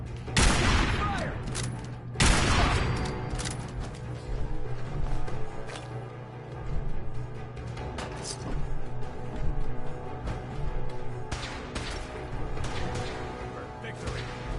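Gunfire in the video game Fallout 4, with two loud sharp blasts up front followed by a sustained rattle of shots and booms, close and forceful, with a low hum underneath.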